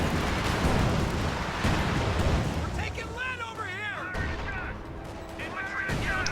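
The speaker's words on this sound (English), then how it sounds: "armor company artillery got dropped somewhere" Artillery strike in a World War II strategy video game, a dense rumble of booming explosions and crackling fire under a voice and fainter game voices, loud and continuous.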